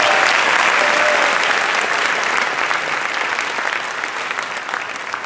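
A graduation ceremony crowd breaks into loud, sustained applause, many hands clapping together in a dense wash that eases only slightly over several seconds.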